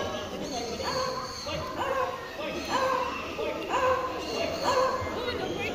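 A parrot imitating a dog gives a few short, harsh bark-like yaps in a loose rhythm over a noisy room with background chatter, at a bird show at Cebu Safari, Philippines.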